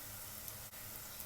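Batter crackers fry in hot oil in a pan, giving a steady, soft sizzling hiss with one brief dip midway and no talk.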